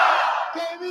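A crowd at a Bolivian election rally lets out a short, loud burst of voices cheering and shouting together, close and brief.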